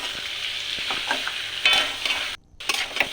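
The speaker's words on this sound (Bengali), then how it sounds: "ভালো করে নাড়াচাড়া করে নিচ্ছি।" Tomatoes with cumin, coriander and chilli powders fry and sizzle in a pan while a spoon stirs them, scraping sounds coming in uneven strokes over a steady hiss, with a brief pause near the end.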